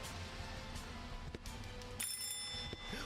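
A bright electronic bell rings from about two seconds into the clip, sustained over steady background music in the Chaos on Deponia video game, standing in for a doorbell.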